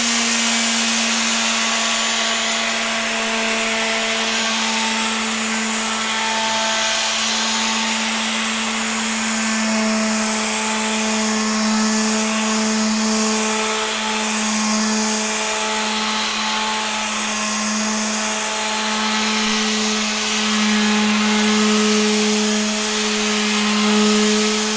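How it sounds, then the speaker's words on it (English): A power sander works teak wood, a steady, loud droning whine with a constant motor hum and a gritty abrasive hiss running unbroken throughout. "good 5 hours of sanding"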